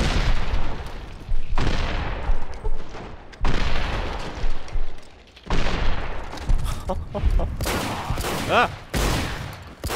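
Bursts of gunfire in Fallout: New Vegas, loud clustered shots over several seconds with short gaps between volleys, and a person exclaiming briefly over them.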